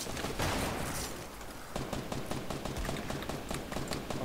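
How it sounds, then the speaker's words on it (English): Gunfire in a Fortnite match crackles as a steady series of quick, evenly spaced shots, moderately close, with a busy wash of noise beneath and no talk. "They're shooting at us!"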